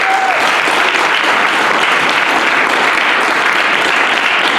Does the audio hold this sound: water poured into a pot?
no